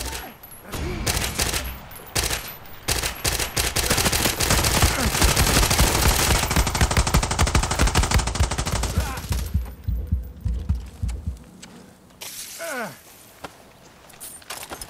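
Sustained automatic gunfire from the video game Far Cry 6 rattles loudly for about ten seconds in dense rapid bursts, then thins to scattered shots and quieter game sounds.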